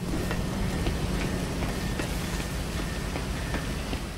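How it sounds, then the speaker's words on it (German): Steady rain in GTA V Online during a deathmatch at a scrapyard, a dense even hiss with faint scattered drop ticks throughout, no voices. "Oh, jetzt regnet es auch noch."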